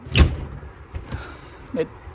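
A fifth wheel RV door is moved with a light, hollow thump and a few rattling clicks and creaks, close by, short and uneven.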